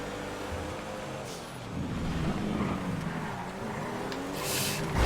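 An FQ2 race car in GTA FiveM roars along with a sustained engine drone that rises and falls, steady and fairly close throughout.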